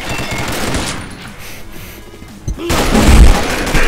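Bursts of rapid gunfire crackle loudly in an online multiplayer shooter video game, a dense volley at the start of a round, a quieter lull, then heavy shots and booms return.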